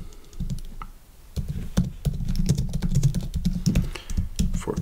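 A prompt being typed on a computer keyboard gives a dense, continuous run of fast, close key clicks with a low thumping undertone, loud and steady after a brief quieter start.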